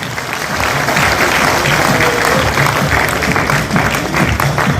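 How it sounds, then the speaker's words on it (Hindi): Loud, sustained applause from an audience at a business event welcoming the chief guest, dense clapping that swells after a brief start and carries steadily to the end. "मैं चाहूंगा सर के लिए जोरदार तालियां हो जाए दोस्तों।"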